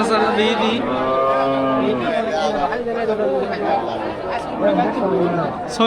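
Cows and heifers, including Friesians, low with long drawn-out moos at a busy cattle market near the Bangladesh border, close by, while people talk and chatter throughout.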